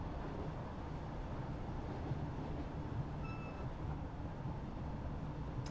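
A London Underground S8 Advanced Stock train on the Metropolitan Line in Train Simulator 2020 rolls past another train, a steady low rumble and rolling hum with a brief faint high squeal partway through, continuous and moderately loud.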